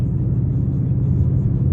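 A car with an MT82 manual transmission, about 3,600 pounds, cruises along in a steady low rumble heard from inside the cabin, droning evenly without breaks.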